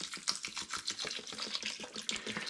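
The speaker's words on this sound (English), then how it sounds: "I'm now going to top the saucepan up with spring water" Spring water is poured into a saucepan of wet grain for brewing a porter, a close, faint, bubbling trickle with quick irregular splashes running throughout, no talking.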